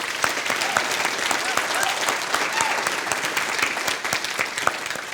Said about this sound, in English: I think we should give a big round of applause for the organizers